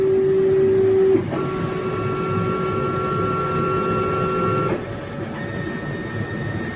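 A 3D printer runs its Z-axis calibration, a steady mechanical hum with stepper-motor whine tones that shift pitch as the axis moves, close and continuous with no voices.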